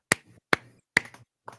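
Four sharp, separate snaps or claps come at a steady pace, crisp and close, with short quiet gaps between them.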